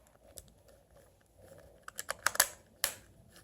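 A screwdriver turns out a small screw on a brand-new Jimmy model. A few faint scrapes give way to a cluster of sharp, close clicks and taps, then one last crisp click, with no talking.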